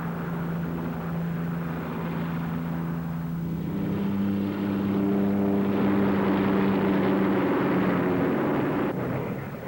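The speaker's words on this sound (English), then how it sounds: "Fixed wings again. The Jet Provost, also in production for the RAF." A Jet Provost jet trainer flies at the Farnborough air show, a loud, continuous engine roar and whine that swells as the aircraft passes, with no talking over it.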